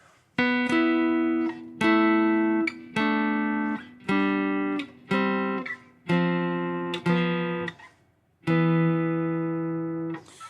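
A sequence of two-note jazz guide tone chords, rootless, about eight of them, each struck cleanly and left to ring briefly before the next, on a clean keyboard-like tone.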